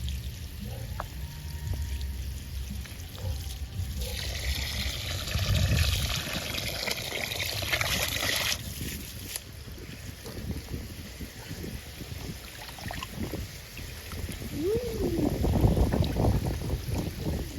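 Raw beef for a Jamaican stew rinsed under running water, a steady pour and trickle with splashing bursts, fairly close, with no talking.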